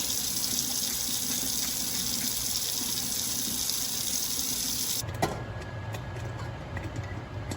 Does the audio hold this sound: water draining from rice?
yes